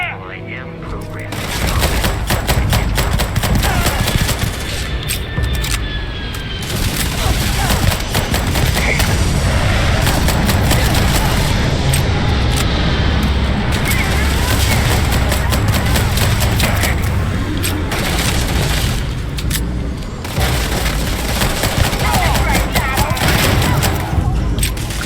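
Sustained firefight in the Starfield game, rapid overlapping gunshots and bursts of automatic fire, loud and continuous with brief voices in the mix.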